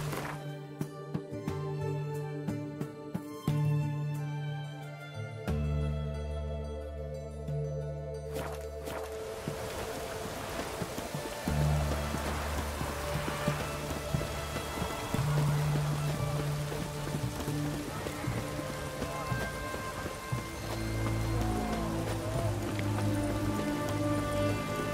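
Rain patters in The Witcher 3: Wild Hunt, a steady wash of drops building beneath layered music and ambient tones, moderately loud and continuous.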